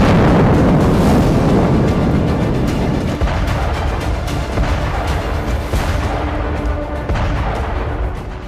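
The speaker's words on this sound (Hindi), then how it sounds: "टर्नोपिल के हथियार डिब्बों में डिप्लीटेड यूरेनियम शेल रखे हुए थे, जो धमाके के बाद एक साथ फट गए" Loud, heavy blast at a Ternopil weapons depot storing depleted uranium shells: a deep roaring boom that rumbles on and slowly fades, with no voices over it.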